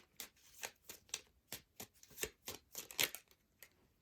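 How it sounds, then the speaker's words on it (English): Tarot cards being shuffled by hand, a quick run of crisp riffling flutters and soft slaps in uneven bursts, close and fairly quiet with no talking. "they're saying to keep shuffling"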